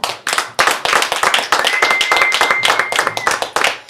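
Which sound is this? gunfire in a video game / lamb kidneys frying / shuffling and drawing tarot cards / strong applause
strong applause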